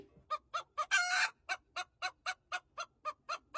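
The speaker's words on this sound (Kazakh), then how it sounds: "Тауықтар" A chicken clucks in a quick, regular series of sharp calls, close by, with one brief louder squawk early on.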